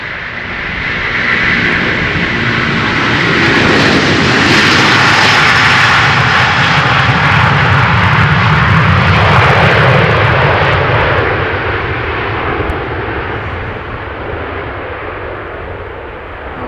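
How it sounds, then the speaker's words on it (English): Airbus A330 jet engines spool up for departure at Amsterdam Schiphol, building from a rumble to a loud, broad roar that peaks mid-clip and then slowly fades as the aircraft moves away. "an A330 that is also already spooling up"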